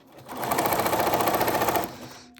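A sewing machine stitches through paper in one continuous run of about a second and a half, a close, rapid mechanical whir with an even chattering rhythm. It starts and stops cleanly.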